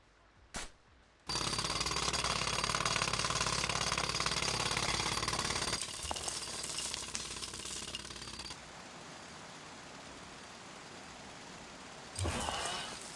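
A loud, steady mechanical jackhammer-style drilling into the ground in the TMNT Mutants Unleashed video game runs for several seconds after a short click, then drops to a lower grinding rumble before a brief final burst.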